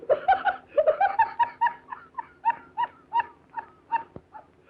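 Small dog giving a rapid series of high yips and whimpering cries, close and fairly loud, the whines coming in uneven bursts with short pauses between them.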